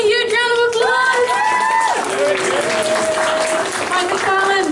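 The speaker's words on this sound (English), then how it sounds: "Give them a huge round of applause." A convention audience at an animation voice actor panel in Wellington breaks into loud, sustained applause mixed with cheers and whoops, with voices calling out over the clapping.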